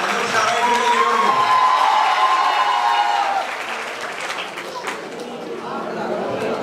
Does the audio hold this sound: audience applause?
yes